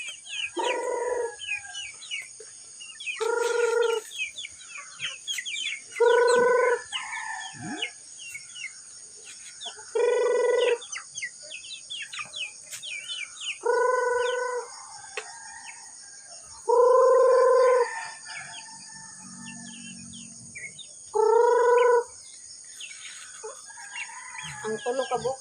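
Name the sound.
chickens clucking and crowing at feeding time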